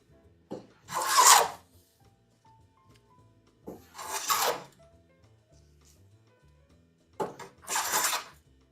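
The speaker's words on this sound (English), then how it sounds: "I actually got the hand plane set up nicely." A hand plane shaves wood for a shelf build. Three separate raspy strokes, each about a second long, are spaced a few seconds apart with quiet between them. The strokes are close and clear, with no talking.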